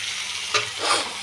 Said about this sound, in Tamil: உப்பு போட்டு நல்லா ஃப்ரை பண்ணிக்கோங்க